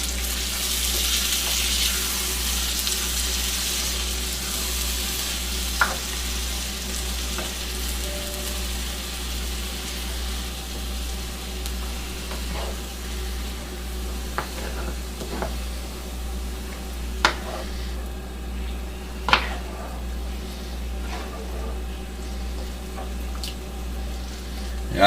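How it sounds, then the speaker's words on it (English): Meat sauce with canned diced tomatoes and tomato sauce simmers in a pan on lowered heat, a steady soft sizzle and bubble with occasional clinks and scrapes of a spoon stirring, no voices. "Just a stir to make sure it doesn't stick."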